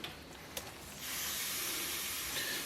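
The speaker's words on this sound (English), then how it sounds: "pan's pretty hot, so I'm going to add a bit of cooking oil" Cooking oil poured into a hot pan breaks into a sudden steady hiss after a short quiet moment with a couple of light clicks, the sizzle sustained and fairly soft.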